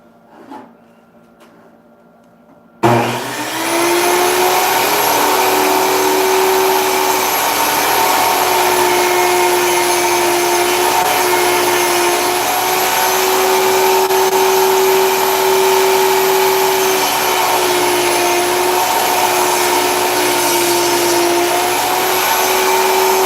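A table saw starts up abruptly after a quiet stretch and runs loud and steady, its motor whine holding a constant tone while it makes a couple of cuts on wooden shelves in a woodworking shop.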